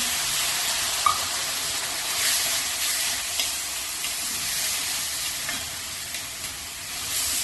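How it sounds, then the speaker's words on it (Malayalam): Rava laddu mixture stirred as hot boiled milk is poured in a little at a time, giving a soft continuous hiss and sizzle with faint scraping, steady and close with no talking. "1/4 കപ്പ് തിളപ്പിച്ച് നല്ല ചൂടുള്ള പാല് കുറേശ്ശെ ഒഴിച്ച് ഇളക്കി കൊടുക്കാം."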